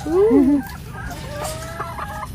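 Several organic free-range chickens cluck nearby at a home garden, with a louder, pitch-bending call at the start, then softer clucks scattered over a low background hum.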